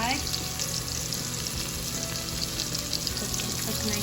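Thin floured chicken cutlets, three at a time, sizzle and fry steadily in a pan on the stove, a constant crackling hiss at close range with a faint voice now and then under it.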